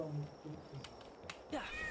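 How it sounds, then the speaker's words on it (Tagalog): A creature in the video game Palworld gives a short, quiet meow, followed by soft clicks and faint background voices. "Itong gusto ko yung meow na to eh"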